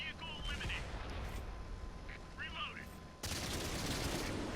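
Tank gunfire in World of Tanks, a rapid clip of shots emptied in sequence, heard as dense rumbling bursts over steady engine and battle noise, with a louder swell of action in the last second.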